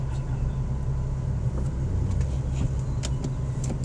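A Nissan 370Z Nismo on an SCCA autocross run in Grand Forks, ND, its engine a steady low in-cabin drone with small rattles and clicks, no speech.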